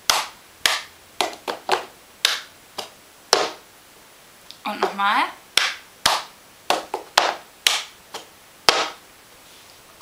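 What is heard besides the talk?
cup song rhythm of hand claps and cup taps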